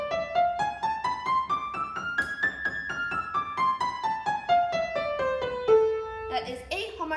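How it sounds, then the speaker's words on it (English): A piano runs an A harmonic minor scale over two octaves, steady evenly spaced notes climbing then descending, ending on a final low chord, played clearly without any talking. "So A harmonic minor, for example, sounds like this."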